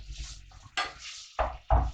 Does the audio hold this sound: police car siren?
no